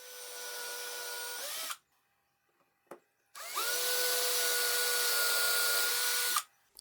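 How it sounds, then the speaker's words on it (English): A power drill with a very thin bit whirs loudly and steadily in two long bursts, drilling 5 mm pilot holes for concealed hinges, with a brief pause and a faint click between them, close up. "So now, with a very thin drill bit, I drill the pilot holes."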